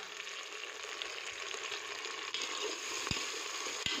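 Tomatoes tipped into sautéed onions in a pan for aloo baingan, a steady close sizzle and fry hiss with a couple of soft stirring knocks near the end, no talking.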